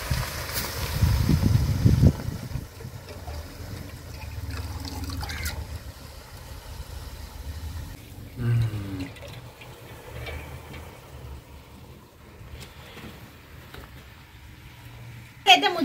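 Fresh spinach is washed by hand in a container of water, with sloshing and splashing that is loudest at the start and returns in short bursts, while a voice talks.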